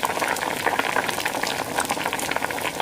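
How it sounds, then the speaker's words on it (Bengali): Pumpkin leaf and lentil fritters fry in hot oil with a dense, loud, bubbling crackle that stays close and continuous throughout. "এভাবে আমি প্রতিটা বড়া এক এক করে ভেজে নেব"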